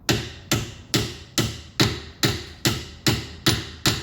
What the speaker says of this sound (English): now I'm going to start bashing it because I think that's the only